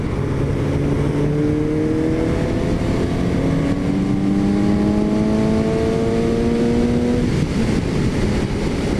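A Suzuki GSX-S750A motorcycle roars while being ridden, climbing repeatedly through the revs toward about 8,000 rpm with rising engine whines over loud, continuous wind and road noise.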